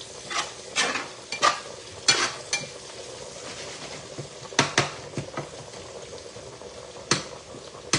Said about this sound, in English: So we're going to give it like maybe another 2 minutes of frying here